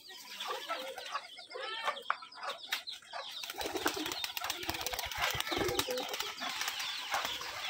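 Rajshahi Giribaj pigeons in a loft, soft cooing and clucking calls close by, followed by bursts of wing flapping and rustling movement, fairly quiet overall.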